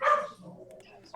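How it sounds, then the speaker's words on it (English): Dogs bark once loudly up close, followed by faint fainter yips and trailing noise in the background. "I knew that's Frank's dogs barking."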